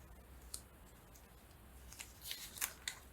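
Scissors snip through paper while a new journal cover is made, a few quiet crisp cuts clustered toward the end over a low background hum.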